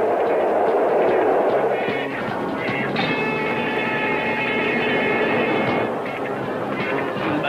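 Runaway train in a 1981 Spider-Man cartoon: a loud, steady rumbling roar with a sustained high metallic whine or whistle in the middle, heard alone without talk.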